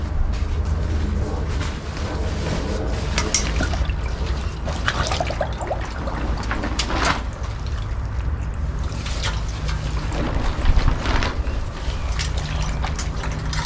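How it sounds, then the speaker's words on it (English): A 25-liter dry bag dipped into a running creek, with steady flowing water and broadband sloshing and trickling throughout, close and continuous with no talk. "By simply dipping it into the creek, river, or stream"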